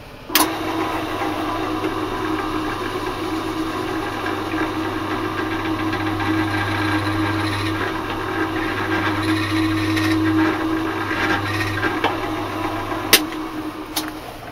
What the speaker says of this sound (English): bullseye it with a very small drill and drill it out to 9